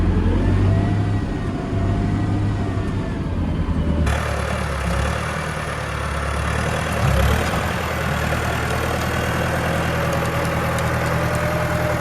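A tractor engine runs in a loud, steady, close drone that shifts tone slightly partway through, with no one talking.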